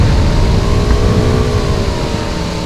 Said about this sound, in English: Man, this motorbike sure is loud.